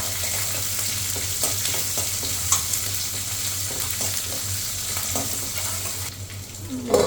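Peanuts and onion pieces frying in a pan, a continuous hissing sizzle with repeated rhythmic stirring scrapes and light taps, fading briefly before a final knock.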